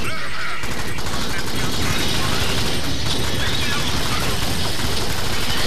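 Dense, continuous gunfire and mechanical clatter fill a co-op session of the Alien Swarm video game, loud throughout with no pauses.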